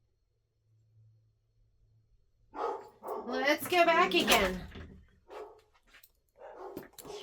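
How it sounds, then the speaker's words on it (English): Dogs barking in a home sewing room during quilt block stitching, a few faint distant yips early, then a burst of close excited barks mixed with a person talking over them. "Dogs are going crazy."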